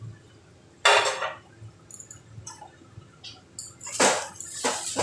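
A lid comes off a pot of boiling potatoes with a sharp metallic clatter, followed by scattered clinks and a burst of bubbling, steamy water sounds, all close and moderately quiet.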